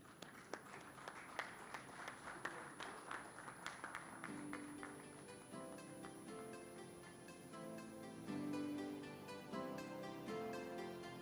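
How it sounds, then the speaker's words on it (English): Applause from the audience at a chemical and EPC industry conference panel on energy transition, scattered claps rising into steady clapping with music in the background, fairly faint. "Big round of applause."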